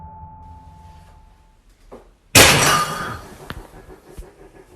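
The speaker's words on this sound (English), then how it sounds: "According to Cardino, the sound was one of her plants falling down." A house plant topples over indoors in a quiet room: after near silence, a sudden loud crash with a breaking, shattering quality decays over about a second, followed by a couple of fainter knocks.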